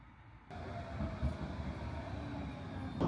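London tram 2548 runs between stops near Mitcham Junction. Rolling rumble and rattle kick in suddenly from a quieter start and then continue steadily with low clunks, heard from on board.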